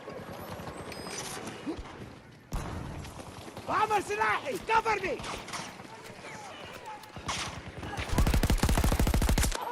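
Automatic weapon fire in Battlefield 2042, a fast, even string of close, loud shots near the end that follows stretches of people talking and scattered game noise.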